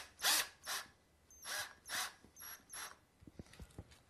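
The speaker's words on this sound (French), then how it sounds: "il ne nous reste plus qu'à la visser" A screw is driven into a wall anchor while hanging a picture, heard as faint, close bursts of grinding turns followed by a few quick small clicks, with no talking.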